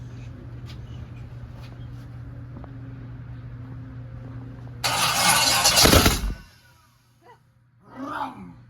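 A low engine idles steadily, then a loud burst of roaring and hissing for about a second and a half before it cuts out, followed by a brief rumble.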